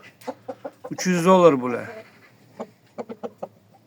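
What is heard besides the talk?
roosters clucking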